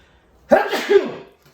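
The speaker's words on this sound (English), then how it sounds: "I have a sneeze. What a good time for one." A single loud, close sneeze bursts out after a moment of quiet, with a short breathy tail trailing off.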